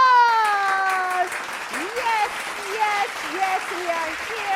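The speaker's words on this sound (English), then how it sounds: "Give me a round of applause!" Applause fills the background while a voice calls out over it with long, drawn-out tones.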